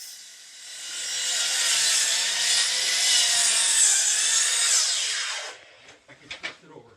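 A saw cuts through wooden pole supports for a veranda on a building site, giving a loud, steady rasping whine for about five seconds. A few sharp knocks and clatters follow once the cut ends.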